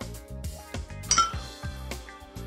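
Cheesy meatloaf ingredients are mixed in a bowl, producing a run of close clinks and knocks as a utensil strikes the bowl in quick, uneven rhythm.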